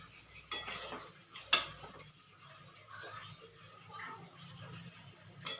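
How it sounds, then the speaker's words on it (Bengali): Chicken curry with a cup of hot water added being stirred in a pot, scattered spoon scrapes and metallic clinks against the pot at irregular moments over a faint background. "দিয়ে আবার একটু ভালো করে নাড়াচাড়া করে নেব।"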